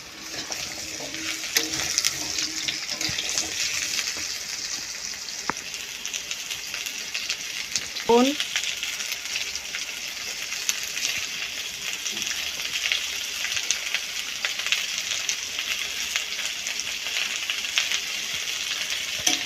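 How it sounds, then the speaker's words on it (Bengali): Small fish pieces with potato and drumstick pieces fry in a pan, giving a continuous soft sizzle and crackle throughout, with one brief clatter partway through. "এইভাবে আমি সব মাছগুলোর মধ্যে আলু সজনে ডাঁটা দিয়ে দিলাম, একটু ভেজে নেব।"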